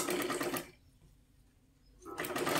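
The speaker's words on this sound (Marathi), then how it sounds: "ही पट्टी ह्याच्यावरती ठेवून आपल्याला पूर्ण शिलाई करून घ्यायची आहे" A sewing machine stitches a strip onto a blouse in two bursts of steady whirring, running briefly, pausing for about a second and a half, then starting again, close and alone.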